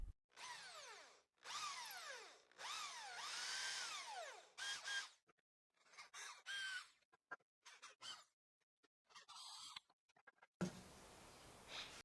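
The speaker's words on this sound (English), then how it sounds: "I will use the hand drill with a 3mm bit, equipped with a 10mm countersink, to drill at the marks" A hand drill with a 3mm bit and 10mm countersink whirs into wood in several bursts with rising and falling pitch, separated by short pauses, close and loud, ending in steady hiss.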